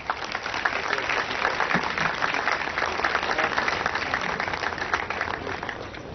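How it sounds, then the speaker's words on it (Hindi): Dense, sustained crowd clapping at an award presentation in Karachi fills the room at a steady level for several seconds, then tapers slightly at the end. "आपकी भरपूर तालियों में"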